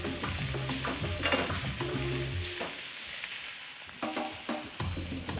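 Food sears in a hot pan with a loud, continuous sizzle. Scraping and stirring knocks and a few clinks from utensils sound against the pan, all close by and without talk.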